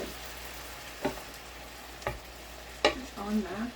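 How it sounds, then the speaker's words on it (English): Food sizzles softly in a pan on max heat under a hiss of steam from added water, with a few sharp utensil clinks against the pan scattered through. "So I'm going to add water and let it steam."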